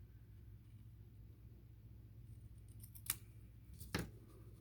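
Scissors trim a cardstock panel for a paper craft project, giving two quick, crisp snips about a second apart over a low, steady room rumble.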